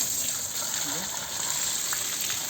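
A pressure washer sprays the air-cooled Slanzi DVA 1030 G engine of a Goldoni 4x4 garden tractor, giving a constant hissing rush of water with faint voices talking underneath.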